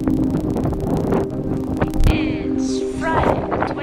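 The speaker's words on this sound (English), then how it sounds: "very windy and cold outside." Strong wind buffets outside a lodge in the Himalayas, rumbling and gusting close to the microphone with low roaring noise and brief whooshing swells.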